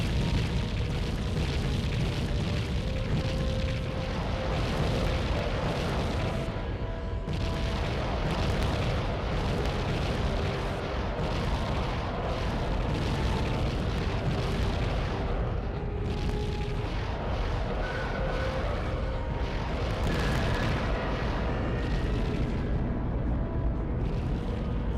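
Missile explosions in the Nintendo 64 game Body Harvest, heard as a dense, continuous wall of booming blasts and rumbling that stays loud and unbroken throughout.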